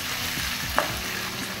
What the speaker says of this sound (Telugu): పచ్చిమిర్చి అల్లం వెల్లుల్లి పేస్ట్ ఫ్రై అయిపోయింది కదా.